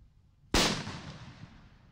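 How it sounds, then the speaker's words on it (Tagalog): A King Kong firecracker, slightly bigger than a 5-star, explodes on a mannequin hand: one sudden sharp loud bang after quiet, followed by a decaying noisy tail. "Unang isinalang ang paputok na King Kong na mas malaki lang ng konti sa 5-star"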